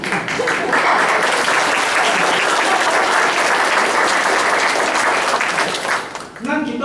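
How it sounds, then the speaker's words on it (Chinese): A church congregation in a Taiwanese-language worship service applauding, a dense, loud burst of clapping from many hands that holds steady for several seconds before a voice cuts in. "好， 拍拍手。"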